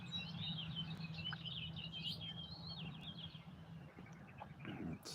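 Birds sing and chirp outdoors in high, quick trilling phrases that repeat across the clip, with a steady low hum and a few small taps underneath, no voices.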